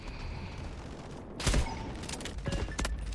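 R93 sniper rifle shots crack in the Delta Force video game during a sniper battle, a couple of sharp loud reports about a second apart over a constant background of game noise.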